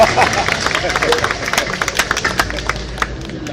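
Audience at the opening of an LCCK event in Malang breaking into clapping on a count of three, a scattered burst of handclaps with crowd murmur and some voices mixed in.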